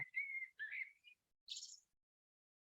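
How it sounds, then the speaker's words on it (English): Birds sing in a quiet setting, giving a few short, clear whistled notes and one brighter chirp, followed by a brief call at the very end. "Listen to the birds. Sing their song."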